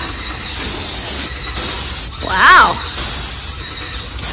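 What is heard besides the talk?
paint sprayer spraying a ceiling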